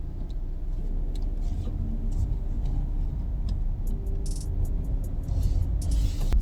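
An automatic car drives along and turns left, its engine and road noise forming a steady close rumble inside the cabin, with faint ticking, likely the turn signal, and a few light clicks.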